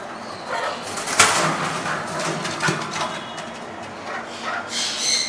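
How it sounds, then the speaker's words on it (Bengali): An Amazon parrot in a thick-meshed breeding cage gives scattered calls at moderate volume over steady background noise, with a brighter, higher call near the end; nobody talks. "এটা হচ্ছে অ্যামাজন পাখি।"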